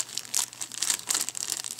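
Plastic packaging crinkles while a Cyber Acoustics CA-461 iPod speaker dock is being unboxed, with close rustling bursts in quick irregular succession and no voice.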